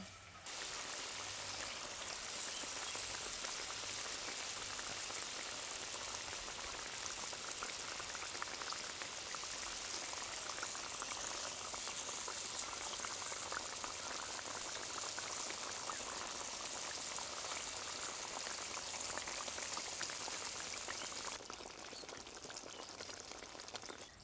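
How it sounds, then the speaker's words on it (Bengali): Fish curry gravy at a rolling boil in a pan, a soft steady bubbling hiss that runs evenly for the whole stretch and drops slightly near the end, faint and with no voices. "ঝোলটা আমার ফুটে উঠেছে, এবার আমি ভেজে রাখা মাছগুলো দিয়ে দেব।"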